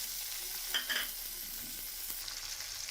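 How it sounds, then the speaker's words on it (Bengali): Onion frying in a pan with chopped green chilies added, giving a soft, steady sizzle with a couple of brief stirring clinks early on, fairly faint throughout. "পেঁয়াজটা আমার ভাজা হয়ে গেছে, এখন দিয়ে দিব কয়েকটি কাঁচামরিচ কুচি"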